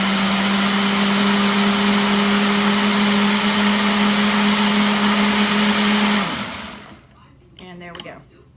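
A countertop blender whirs loudly and steadily, blending a shake of liquid and ice, then winds down and stops, followed by a few faint clatters.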